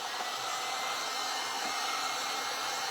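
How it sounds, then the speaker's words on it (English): A heat tool runs steadily at close range, drying paint on paper during a card-making class, a continuous even whoosh with no talk over it. "I'm going to hit this with the heat dryer a little bit"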